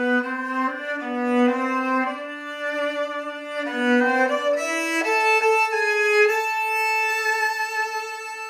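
An octave violin plays a slow, sustained melody with a rich, doubled lower tone beneath each note, solo and close.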